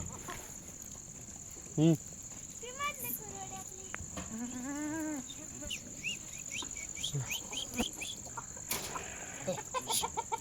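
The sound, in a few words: chickens clucking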